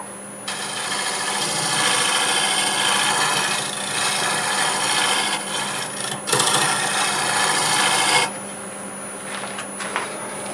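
Redbud wood being turned on a lathe, a sustained close scraping hiss of the tool cutting over a steady motor hum, ending abruptly near the end, with no talk.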